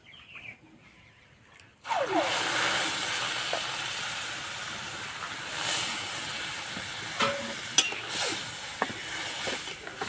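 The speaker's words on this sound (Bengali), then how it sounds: "এবার দেবো এই বাটি 2 বাটি গরুর দুধ।" Cow's milk poured into freshly fried semolina in a hot pan sets off a sudden loud, steady hissing sizzle that runs on with small bubbling pops and no voices.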